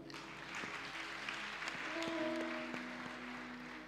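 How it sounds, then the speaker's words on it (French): A church congregation claps during a service, a moderate, sustained round of applause from a room full of people with a few distinct hand claps standing out. "Acclame Jésus."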